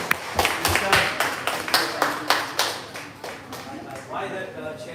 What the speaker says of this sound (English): please give applause for Dr. Jaison